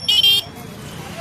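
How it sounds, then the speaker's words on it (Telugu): On a busy road near a village festival in Bommanahal, Anantapur district, a loud double car-horn honk sounds close by, followed by a low traffic rumble under a man's speech. "ఇంతవరకు ట్రాఫిక్ అట్లాగే ఉంది"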